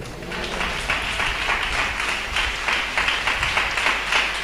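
A church congregation at a Tamil Christian sermon claps together, a steady, dense wash of many hands that holds at an even level without breaks.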